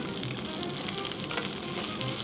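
Fish frying in a pan during home cooking, a steady, close sizzle and crackle running unbroken throughout with no talking.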